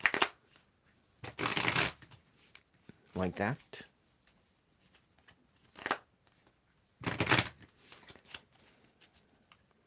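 Tarot cards shuffled in close bursts of riffling and sliding, several separate rounds with pauses between, alongside a brief spoken phrase.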